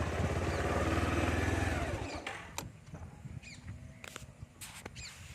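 A motorcycle engine idles after stopping on a hill road, first loud and steady, then fading to a low background rumble as birds chirp nearby.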